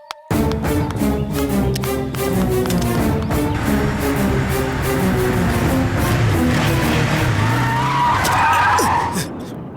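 A car brakes hard and skids to a stop on a road, a loud long tire squeal building over several seconds above the engine, with a brief knock at the start.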